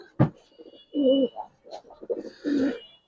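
A giribaz pigeon coos close by, giving two deep, throaty rolling coos after a short sharp opening note, with softer murmurs in between.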